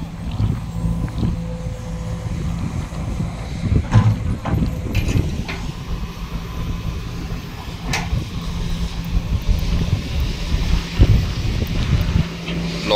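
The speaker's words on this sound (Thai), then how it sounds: "ลมแรงมาก" Strong wind buffets the microphone in a constant low rumble with gusty swells at a reservoir construction site, with a few faint clanks in the background.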